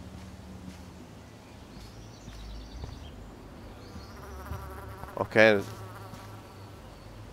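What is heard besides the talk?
bee buzzing in video game Life is Strange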